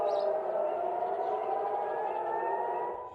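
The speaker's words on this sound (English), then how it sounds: "Sirens rang out as Israeli air defense systems swung into action." Air raid sirens sound in Israel during a missile attack aimed at Ben Gurion airport, a steady wailing tone that holds loud and continuous before fading slightly at the end.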